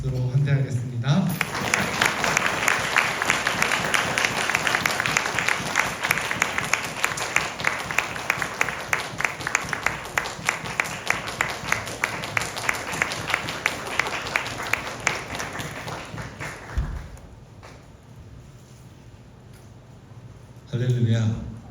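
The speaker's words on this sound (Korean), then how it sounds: "목사님을 축복하는 마음과 환영하는 마음을 담아서 크게 박수로 환대하겠습니다." A church congregation at a summer retreat claps loudly to welcome a visiting pastor, a long, thick burst of applause that holds steady for about fifteen seconds before dropping away into quieter room sound, with a brief voice at the end.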